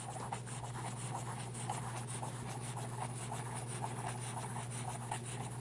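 Cross Century pen nib writing on paper, a steady audible scratching glide with rhythmic stroke pulses over a constant low hum, continuous and close.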